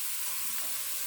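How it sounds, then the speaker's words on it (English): Fresh garlic sizzles in a pan for scalloped potatoes, a steady, soft hiss of frying with no talk over it. "To that, you can add your garlic."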